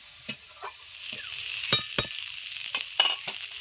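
Food frying in a pan with a steady sizzle, broken by a series of sharp scraping clicks of a spoon stirring it; no voices.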